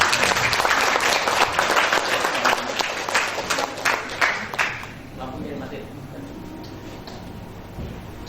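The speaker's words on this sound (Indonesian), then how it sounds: "Bisa diberi tepuk tangan." An audience at a formal Indonesian event applauds an invited speaker, loud dense clapping that fades after about five seconds into room murmur with voices talking.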